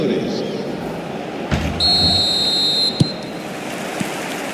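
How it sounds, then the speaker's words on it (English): A referee's whistle in the eFootball video game sounds as a sustained shrill blast just over a second long, set against a constant stadium crowd roar. "Whistle goes, and we start the second half."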